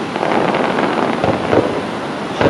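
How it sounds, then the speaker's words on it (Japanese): Fireworks for Swiss National Day in Zermatt boom and crackle continuously in a loud, dense barrage outdoors at night, with bursts overlapping and no clear gaps between them. "ツェルマットのスイス建国記念日の花火の様子ライブで中継してます。"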